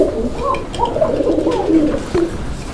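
Two pairs of pigeons for sale coo continuously up close, a throaty, rolling murmur of overlapping calls with no voices present.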